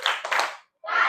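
A class of students claps together on cue during a lesson, with a short burst of brisk hand clapping, a brief silence, then a second burst, close and fairly loud.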